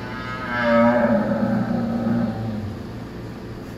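A cow lows during a difficult calving as a calf jack eases the calf out, a long, strained moo that swells early and slowly fades over steady barn noise.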